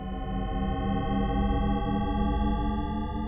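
A Shepard tone: a dense, continuous gliding tone of layered pitches that seems to rise endlessly without ever arriving, steady and eerie.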